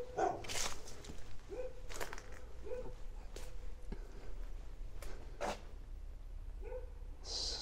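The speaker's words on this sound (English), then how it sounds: "There's a dog here" A dog at a house near Penne, Italy barks in a few sharp, moderately distant yaps spread across the stretch, heard faintly over an outdoor background.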